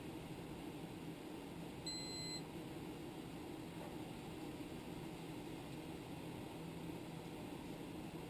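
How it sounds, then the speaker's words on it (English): A kitchen thermometer gives a single short electronic beep while maple sap is boiled down for syrup, heard over a steady roaring hum of the cooking setup. "Well, it beeped once, it hit 216 once, but then jumped back."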